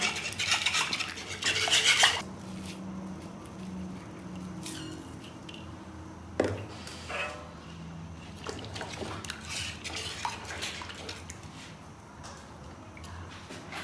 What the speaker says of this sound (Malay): Kacau hingga bancuhan ni pekat sikit ya.